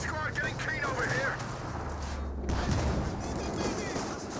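A rifle grenade fires and strikes a building amid sustained battle noise in a Company of Heroes 2 match, with booming artillery-like blasts and a continuous dense rumble of gunfire throughout.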